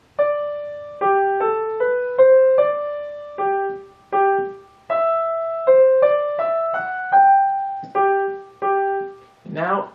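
Piano plays the opening measures of J. S. Bach's Minuet in G Major at a steady, moderate pace, clear distinct notes in a simple melody over a bass line, close and alone with no talking.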